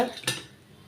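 A spatula flips a sweet potato pancake in a pan with a single close metallic clank and scrape, followed by quiet, faint cooking noise.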